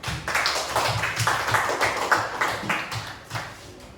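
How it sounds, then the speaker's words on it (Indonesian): A classroom audience claps for a group's presentation, a thin, sparse round of hand claps with individual slaps audible in an uneven rhythm, close and moderately loud, with no talking. "Kita beri tepuk tangan untuk"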